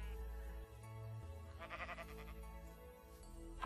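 A Minecraft sheep bleats in one long, wavering, nasal call over a steady low background hum.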